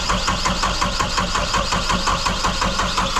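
A sailboat's inboard engine, with its sail drive gears disconnected, cranks and runs with a steady, fast mechanical chug, loud and close, continuous throughout with no talk over it.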